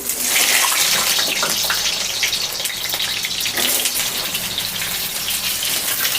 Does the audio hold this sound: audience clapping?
no